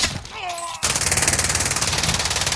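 Rapid automatic gunfire in the Warzone battle royale game, a fast even rattle of shots that starts abruptly after a brief voice and keeps firing loud and steady to the end.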